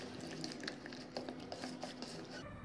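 Soft wet stirring and patter as chicken is mixed into marinade for Karachi-style student chicken biryani, quiet and steady with small squelchy ticks.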